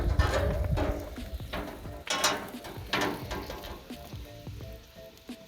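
Sirloin steaks sizzle and crackle on a barbecue grill, a busy spray of fat pops and hissing close up, with occasional clicks and scrapes from cooking tools, no talking.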